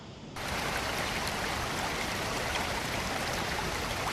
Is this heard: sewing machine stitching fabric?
no